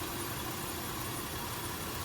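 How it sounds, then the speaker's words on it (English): A 3.5 liter V6 car engine idles with a steady, even, hissing hum, with no talk or change in tone across the stretch. "good running engine, nice and quiet"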